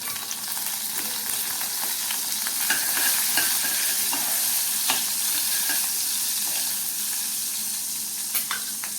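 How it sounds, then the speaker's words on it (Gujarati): Mustard seeds, cumin and asafoetida crackle and sizzle steadily in hot oil, with sharp scattered pops over a continuous frying hiss and no voices. "ધાણા રાઈ અને હિંગ તતડી જાય એટલે આપણે આ ચણાના લોટનું મિશ્રણ એડ કરી દઈએ"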